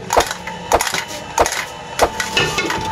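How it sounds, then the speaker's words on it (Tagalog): A toy Minecraft axe strikes wood four times, each a sharp, close, loud knock spaced evenly about two-thirds of a second apart, with no talk. "May bumagsak na kahoy."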